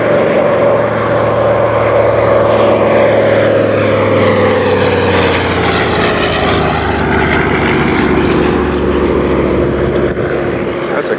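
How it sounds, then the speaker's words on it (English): A propeller-driven fixed-wing airplane makes a loud, sustained flypast at an air show, its engine drone swelling and shifting pitch as it passes close by, with a voice faintly audible underneath. "That's a classy looking airplane."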